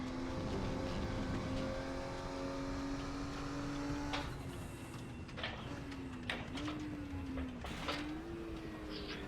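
A Porsche 934 RSR in the RaceRoom racing game drones at moderate distance, engine pitch sliding down through shifts, with a few sharp transient clicks and thumps along the way.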